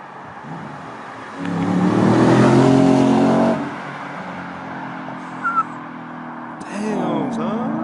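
An Audi S5 with a custom Milltek exhaust goes to full throttle. Its loud, whining engine note surges up for a few seconds and then fades. A brief shorter rev comes later.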